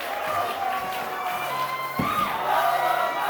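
Wrestling crowd at an ATTACK! Pro Wrestling holiday show in Walkabout keeps up a steady roar of cheers and shouts, with a sharp thump partway through and the noise swelling toward the end.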